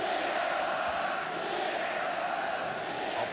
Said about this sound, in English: The crowd are trying very hard because they enjoyed a great first half.